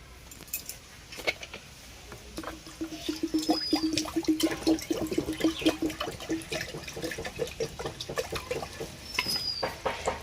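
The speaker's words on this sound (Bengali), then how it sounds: "কড়ার মধ্যে কিছুটা জল দেব।" Water pours into a wok in a home kitchen while a rice-flour and coconut steamed cake is being prepared, a steady splashing trickle that swells and continues for several seconds with faint clinks, no talk.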